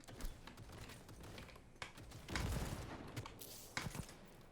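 Rapid bursts of Divided We Stand smart rifle fire from Cyberpunk 2077, a quiet, fairly distant clatter of quick shots broken by short pauses.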